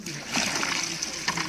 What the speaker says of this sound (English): I'm gonna go ahead and add the dirty bucket water in there.